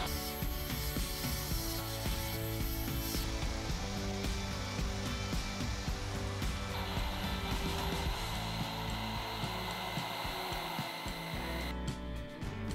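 A Dyson V15 Detect cordless vacuum cleaner running steadily and loudly, a continuous motor whine with rubbing and scraping of the tool against surfaces, the pitch shifting partway through, no talk.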